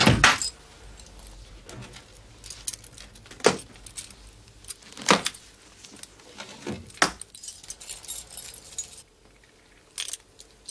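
Keys jangle and clink in repeated sharp bursts, close and fairly loud, in a quiet indoor setting with no talking, apparently while someone fetches a key from a drawer.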